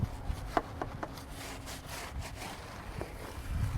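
Scrubbing of a tire rim during a cleaner test: close, rough rubbing strokes in an uneven rhythm with a few sharper scrapes, fairly quiet, no voices.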